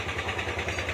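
A Yamaha Aerox 155 scooter engine idles roughly after a fault repair, giving a brief, close, pulsing chug in a quick, even rhythm.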